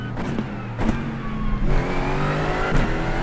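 A Mercedes AMG GT4 race car engine in the iRacing game at Silverstone drones loudly and steadily, with pitch shifts as it brakes and gears change, and sharp shift bursts cutting through the sustained roar.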